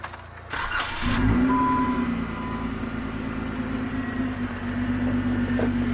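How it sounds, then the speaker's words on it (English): Jeep Wrangler engine starting: a brief crank, then the engine catches and settles into a steady, close idle drone with no talk. "Turn the Jeep on here."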